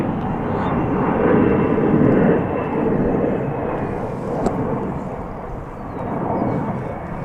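An airliner takes off from a runway at DFW airport, its engines a loud, steady broadband roar that swells and lingers throughout without letting up.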